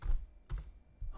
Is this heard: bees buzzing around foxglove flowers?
no